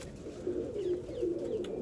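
A pigeon coos in low, throaty repeated calls, close by and steady, agitated at feeding time in a Punjab loft, with quiet background hiss and no voices.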